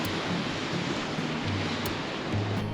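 Steady, broadband wash of ocean surf in the Maldives, a continuous close roar of waves with no distinct breaks, heard alone without voices.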